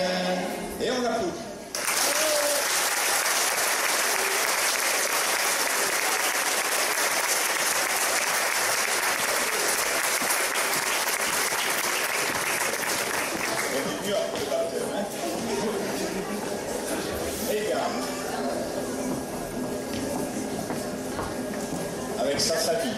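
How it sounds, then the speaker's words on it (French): Just after a baptism at a church faith festival, the congregation breaks into sustained applause. The clapping starts suddenly, stays loud and dense for about twelve seconds, then thins toward the end as murmured chatter and light laughter rise. "Et on applaudit."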